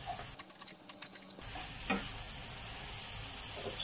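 Chicken breast and vegetables stir-fried in a pan with green-cap sauce make a soft sizzle. Clattery stirring taps sound through the first second and a half, then a smoother, fainter frying hiss continues alone.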